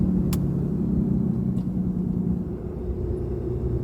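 A 2022 Ram 2500 with a 6.7 Cummins turbo diesel and an S&B cold air intake rumbles steadily up close, a deep, even engine drone with a brief high whistle near the start.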